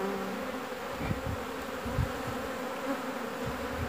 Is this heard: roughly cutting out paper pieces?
no